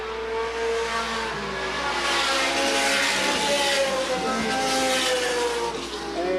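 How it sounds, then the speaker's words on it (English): Late model race cars roar around Sandusky Speedway during a 1985 race, a loud, continuous engine drone that swells and shifts as the cars run through the turns. "As Tim Ice can coast it in from here, he comes on the turn 4, looking for the checkered flag"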